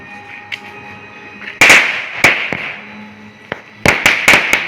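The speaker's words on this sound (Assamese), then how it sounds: "ফটকা" Diwali firecrackers from a packet burst in loud, close, sharp bangs: a pair early on, then a rapid cluster of four near the end, over a steady faint background tone.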